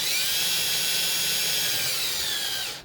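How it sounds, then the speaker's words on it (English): A drill fitted with a buffing wheel polishes a Savinelli 320 tobacco pipe with Tripoli compound, giving a loud, steady high whine close by that holds evenly, then cuts off abruptly at the end. "I have one of these buffing wheels on my drill here"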